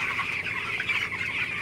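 Broiler chickens on a poultry farm cluck steadily in a close, continuous flock chorus for a short stretch, with no voices present.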